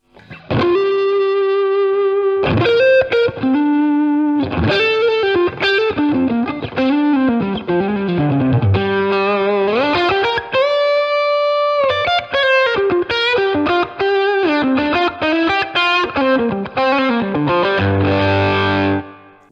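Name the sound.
electric guitar with reverb effect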